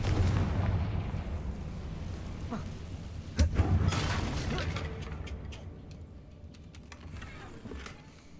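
Confringo fire spell in the video game Hogwarts Legacy, a sharp explosive boom midway followed by a rumbling burst and fading crackle, with a voice speaking over the game sounds.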